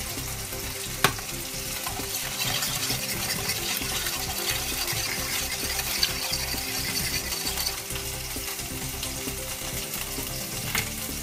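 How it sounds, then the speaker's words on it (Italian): Spring onion fries in a pan with a steady, faint sizzle and crackle, punctuated by a few light clicks, with no voices over it. "Intanto il cipollotto sta friggendo"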